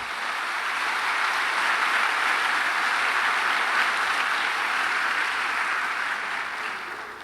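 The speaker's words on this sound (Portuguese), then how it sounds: "Vamos aplaudir a Jesus." A church congregation applauds together during a worship service, a dense, steady wash of clapping that holds evenly for several seconds before easing slightly at the end, with no voices over it.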